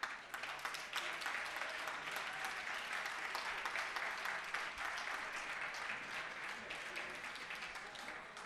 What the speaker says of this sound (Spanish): Con un fuerte aplauso, por favor.